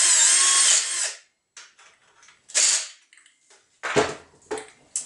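A power tool drives and tightens a bolt while a new Chinese-made string trimmer is assembled, giving a loud sustained whir at the start, then a second shorter burst and several brief sharp bursts of mechanical noise with pauses between.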